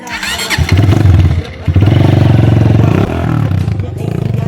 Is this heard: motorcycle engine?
yes